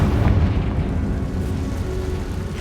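A Confringo spell explosion in Hogwarts Legacy gives a loud, sustained rumbling blast of booms and crackle, dense and heavy throughout, with no voices.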